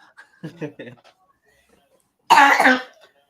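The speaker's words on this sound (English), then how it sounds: "That's a very heavy cough." A few soft throaty sounds come first, then after a pause one loud, heavy, chesty cough breaks out close by.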